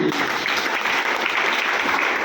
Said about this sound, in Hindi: बहुत बढ़िया, ताली होनी चाहिए